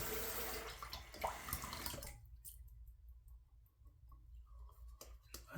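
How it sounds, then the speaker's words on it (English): Water splashes and trickles onto a whetstone while a knife is being sharpened, a busy wet pour at first, then sparse drips and small clicks close by. "Add some more water."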